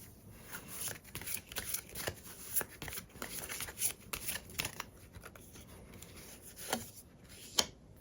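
Tarot cards are shuffled and drawn during a Korean fortune reading, soft close riffling and flicking with irregular snaps and slides repeating steadily throughout, quiet and without talk.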